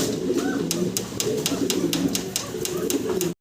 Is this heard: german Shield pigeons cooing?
yes